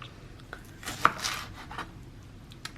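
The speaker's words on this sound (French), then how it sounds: "Et après on fait des petits tronçons." A knife cuts leeks into small pieces on a cutting board, a few quiet, sparse taps and crunches close by in an otherwise calm kitchen.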